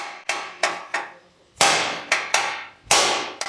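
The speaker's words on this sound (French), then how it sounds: "je dois frapper ici, je ne peux pas frapper là, si je frappe là, ça ne va pas lâcher." A hammer strikes hard at a stuck part to knock it loose: about nine loud, ringing metallic blows in an uneven rhythm, each decaying quickly, close up and with no talking.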